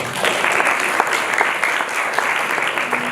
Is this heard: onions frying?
no